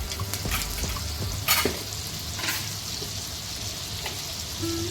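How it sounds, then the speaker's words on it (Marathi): Pav bread heats in butter on a pan for egg ghotala, giving a soft, steady frying hiss with a few scraping stir sounds and brief louder bursts, no talking. "आता आपण पाव गरम करणार आहोत त्यासाठी मी इथे बटर घेतलेलं आहे"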